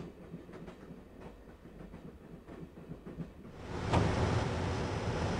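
Train rolling in the Broken Sword PC adventure game, a steady clickety-clack of wheels on rails that swells into a loud, hissing rumble partway through, with no talking.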